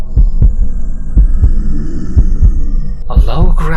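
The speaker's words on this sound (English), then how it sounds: "I could hear the sound of my own heartbeat echoing through the empty space." Heartbeat sound effect for a horror story, a steady series of deep, loud thumps in a slow double-beat rhythm over a low hum, ending with a brief burst of other noise.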